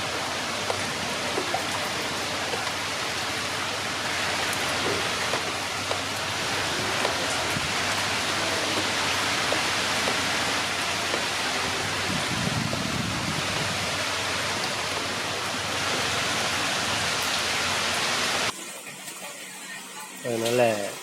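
Heavy floodwater rushing through flooded streets at Tambaram during Cyclone Michaung, a dense, steady roar that fills the whole clip and drops away abruptly near the end, with a voice briefly audible over it.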